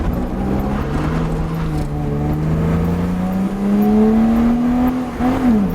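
A BMW E30 with a ZF 4HP22 automatic gearbox accelerates steadily, its engine note climbing in pitch close by and dipping briefly as the transmission shifts gear near the end.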